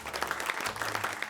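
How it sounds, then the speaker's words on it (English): A short burst of applause used as a sound effect in a craft tutorial, quiet and brief, with continuous clapping and no voices. "you can give yourself a round of applause."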